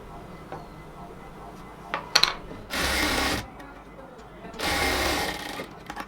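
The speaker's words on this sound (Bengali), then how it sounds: "আমরা ডাবল সেলাই দিয়ে নিচ্ছি।" A sewing machine double-stitches the sleeve of a cotton kameez, running in two loud, steady bursts of whirring with quieter handling noise and a few clinks between them.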